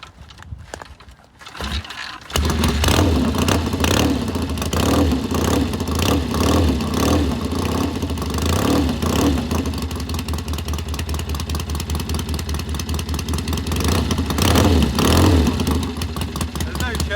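A 1964 Triumph T120C Bonneville 650cc motorcycle with TT pipes starts cold after a short quiet moment, then idles and revs loudly and steadily up close, with pulsing exhaust throughout.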